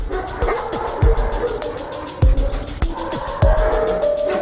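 A Metropolitan Police dog barking in a kennel, several sharp yips and barks spaced about a second apart, near and loud, with whimpering between them and some background hum.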